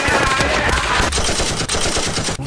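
Loud, dense gunfire in a rapid burst, like a string of close shots fired in quick succession, dominates the whole moment with a brief cut near the end.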